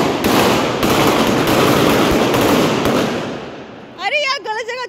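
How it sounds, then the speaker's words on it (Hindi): A sutli bomb firecracker bursting during Diwali celebrations, a loud sustained crackling blast lasting several seconds, followed by people talking right afterward. "पापा को देखा सूतली बम फूटते हुए।"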